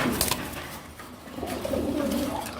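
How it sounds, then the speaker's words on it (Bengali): A male German Velvet Shield fancy pigeon coos softly at a pigeon farm, low murmuring calls rising and falling close by over light background noise. "নর একটা কবুতর, মেল পিজন, অনেক সুন্দর কবুতর"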